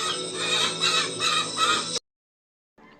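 Roosters at a cockfighting farm crowing and clucking close by for two seconds, then a sudden silence followed by faint bird sounds.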